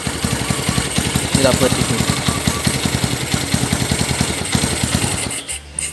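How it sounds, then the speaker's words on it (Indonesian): A Honda GL100 motorcycle fitted with a CDI Grand ignition idles close by with a rapid, even thumping beat. The engine cuts out near the end, and a voice speaks briefly over it. "Seperti ini kan motor nyala ya"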